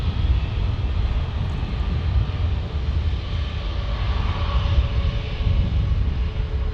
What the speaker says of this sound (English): And there is KLM, the big 787 beauty.